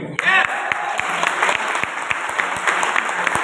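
Audience applause at a Safe Shop business leaders' meeting, steady crowd clapping, fairly close and sustained throughout, with a brief voice at the start.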